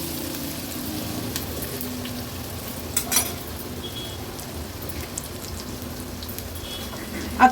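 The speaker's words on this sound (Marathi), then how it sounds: "फोडणी व्यवस्थित आपण मिक्स करून घ्यायची आहे." Curry leaves, green chilli, crushed ginger-garlic and asafoetida sizzle in hot oil as a tempering, a steady close crackling hiss with a few louder spits and pops throughout, no voices.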